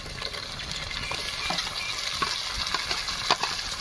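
Chopped tomatoes tipped onto well-sautéed onions for an egg curry, stirred with steady sizzling and frying crackle in the pan, scraping strokes repeating throughout, no voices.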